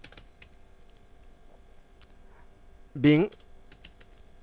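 Sparse, faint clicks from a computer keyboard while data is entered in Tally Prime accounting software, with a single short spoken syllable breaking in near the middle.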